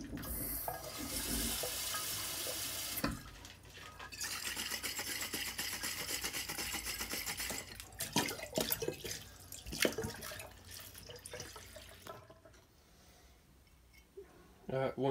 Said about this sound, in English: put some water in the bottle, try to keep it off the label, shake it, rinse it out